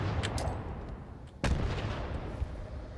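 Grenade explosion in the game Fallout 76: a sharp, loud blast lands mid-clip over a constant rumbling, crackling background of distant gunfire and combat noise, with smaller bursts before and after.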